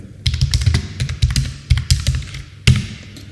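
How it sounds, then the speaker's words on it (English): Quick bursts of keystrokes on a computer keyboard as a git status command is typed, a cluster of close, crisp taps followed by a firmer final press. "For that we need to type git status in our terminal."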